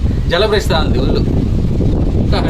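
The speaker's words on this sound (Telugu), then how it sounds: "గాలి విపరీతంగా కొడుతుంది" Strong wind gusting at a lighthouse viewpoint overlooking a harbour, a loud continuous rumbling buffet against the microphone, with a person talking over it.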